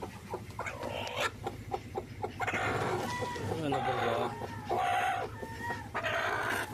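Several chickens cluck and squawk close by in a busy, continuous chorus, with occasional longer calls rising above the clucking.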